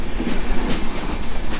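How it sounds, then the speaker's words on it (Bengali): An intercity express train between Rajshahi and Khulna runs steadily along an old rail track, with a continuous loud rumble and a faint clickety-clack from the wheels throughout, and no voices. "এই যে রেল ট্র্যাকটি ধরে আমরা এখন চলছি, রেল ট্র্যাকটি কিন্তু বেশ পুরনো।"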